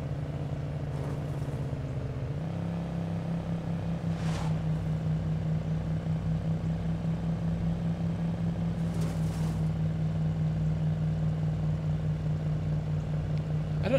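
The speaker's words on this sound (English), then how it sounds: "Sounds like we're running this truck in the red, though, doesn't it?" A truck engine in the zombie survival game State of Decay drones steadily at high revs, a sustained loud hum that shifts pitch once early on, with faint background noises.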